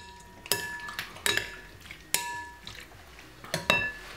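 A metal spoon stirs curry chicken in a pot, striking the rim in several sharp clanks spaced about a second apart, with scraping and soft wet sloshing between the hits, close up and alone.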